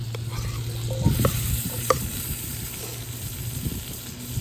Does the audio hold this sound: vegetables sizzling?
yes